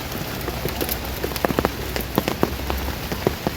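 Steady rain patters on plants and leaves during a jeep safari in Munnar, a dense continuous hiss with scattered louder drips close by.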